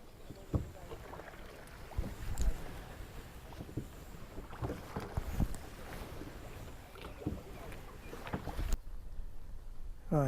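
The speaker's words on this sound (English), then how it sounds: "So let the rowing commence." A boat being rowed on open water while trout fishing, with soft irregular oar knocks and splashes under wind noise, fairly faint, then a brief pause near the end.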